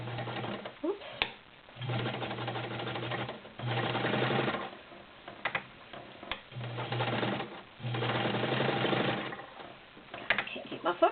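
A vintage Kenmore 1301 heavy-duty sewing machine, fitted with a size 16 needle, stitches through ten layers of cotton-poly blend in several sustained whirring runs with brief pauses between. The motor hums steadily and close, with occasional speech in the gaps.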